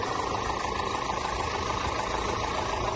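A car engine idles at a steady, even rumble up close, running continuously and unbroken with no voices over it.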